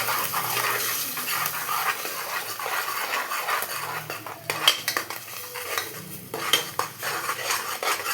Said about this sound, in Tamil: இந்த கலக்கி வச்ச எக்கை இதில் ஊற்றணும் ஊற்றிட்டு கிளறணும் கிளறிட்டே இருக்கணும்